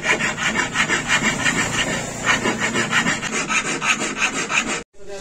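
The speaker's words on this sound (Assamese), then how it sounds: "এইটো ফাইল মাৰি আছে" A hand file rasps back and forth over a gold ornament, loud and close, in an even stroking rhythm that stops abruptly near the end.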